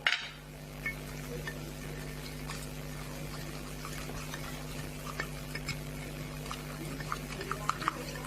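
Cookie batter ingredients being mixed in a bowl, a soft steady stirring and scraping with occasional light clinks against the bowl, fairly quiet and continuous.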